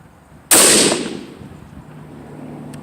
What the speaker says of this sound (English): so now we're going to shoot 41 even.